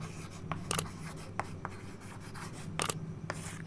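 A pen scratching on paper while writing during an English lesson, short soft strokes and scrapes in an irregular rhythm with a couple of sharper marks, close and quiet against a low steady hum.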